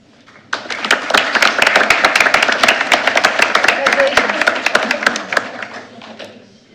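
Crowd applause at a school board meeting honoring four staff members of the month, a dense, steady burst of clapping that holds for several seconds and then fades out.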